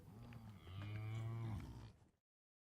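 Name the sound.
cows mooing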